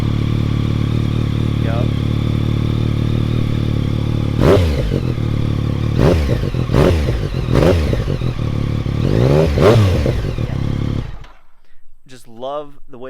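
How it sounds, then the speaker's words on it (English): A Yamaha FZ/MT-09 three-cylinder motorcycle engine idles loud and close with a deep steady burble, then blips through several sharp revs before cutting off; a short spoken word is heard. "I'm gonna fire it up for you again because, hell, I just love the way it sounds."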